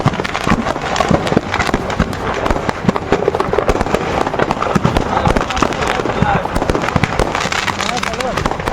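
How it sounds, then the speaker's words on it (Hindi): Dense crackling firecrackers burst nonstop from a burning truck loaded with fireworks, a continuous rapid barrage of sharp pops and bangs at moderate distance, with faint voices underneath. "उसके बाद आतिशबाजी का दौर शुरू हुआ, जिससे पूरा इलाका थर्रा उठा"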